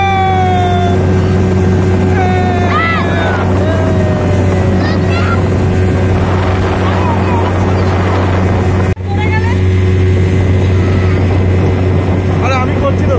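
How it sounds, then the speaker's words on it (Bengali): A motorboat motors across a lake with a steady, loud engine drone throughout, wind buffeting the microphone, and voices talking over it. "আমরা বোট করে নেমে গেছি আর কি, জলে যাচ্ছি"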